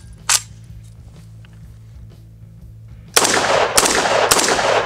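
A SCAR-17 rifle fitted with a JMAC muzzle brake fires outdoors at a range. One sharp, loud shot rings out, then after a pause a close burst of several rapid, booming shots follows.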